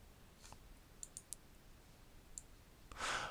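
Computer mouse clicks while working in a GUI tip calculator program, a few faint isolated clicks spread out over quiet room tone, followed by a brief louder rustle at the end.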